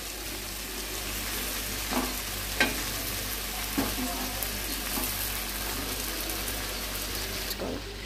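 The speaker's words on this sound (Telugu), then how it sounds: "ఇప్పుడైతే మనం బాగా మిక్స్ చేసుకోవాలి వీటిల్ని." Boiled noodles and vegetables are stir-fried over a high flame, giving a steady, strong sizzle with occasional scrapes and knocks of a utensil against the pan.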